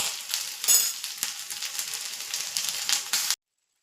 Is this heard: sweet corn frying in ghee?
yes